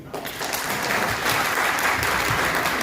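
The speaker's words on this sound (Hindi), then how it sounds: "ताली बजाओ इनके लिए।" Sustained audience applause fills the hall at a leadership event, a dense, even wash of many hands clapping, loud and steady for several seconds with no talking over it.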